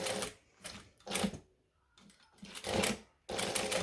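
A home sewing machine stitches through a thick section of fabric in short, separate bursts of rapid needle clatter with pauses between them, close and moderately quiet.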